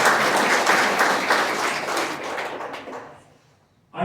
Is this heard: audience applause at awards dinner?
yes